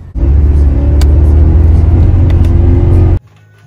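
A BMW E66 750Li V8 with an LPG conversion and oil leaks drives along in snow, its engine a loud, steady close-up rumble that cuts off abruptly near the end.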